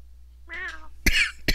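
Human voices imitating cat meows during a Minecraft session, a drawn-out mewing call followed by two sharper, brighter meow-like yelps, close and loud.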